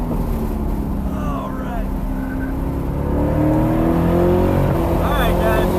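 A C8 Corvette lapping Homestead Miami Raceway, its engine roaring close and loud as it accelerates and shifts with sweeping pitch changes, while a voice speaks briefly over it.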